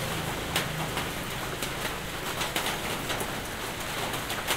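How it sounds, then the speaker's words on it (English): Steady rain falls outdoors, a dense even hiss with scattered louder drips, while a pigeon or dove coos now and then in the background. "It's raining."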